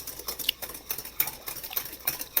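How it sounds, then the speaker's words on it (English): A whisk beats custard in a pot over high heat, quick rhythmic clicking and scraping strokes against the metal, close and moderately loud with no voices. "I'm going to put this under high heat, and I'm going to start whisking away."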